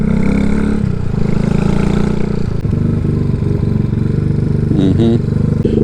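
Car engine idling at a slightly raised idle, a loud, steady, close rumble that holds level throughout, with a brief clatter near the end.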